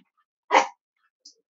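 A pet dog gives a single sharp bark close by indoors, followed by a tiny faint sound and otherwise quiet.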